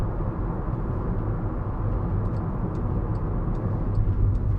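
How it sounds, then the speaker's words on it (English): Volkswagen Caddy 1.6 TDI Startline panel van cruising on the motorway, heard from inside the cab as a loud steady low drone of engine, tyre and road noise with no sound deadening, plus faint ticks and rattles. "Just take you up the motorway. It will be a little bit noisier, as I say."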